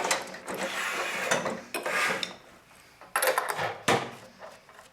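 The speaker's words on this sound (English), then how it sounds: "Time for a crescent wrench." Metal clanks, scrapes and ratcheting clicks as a crescent wrench works loose a part on a scrapped microwave, in irregular close bursts with pauses between.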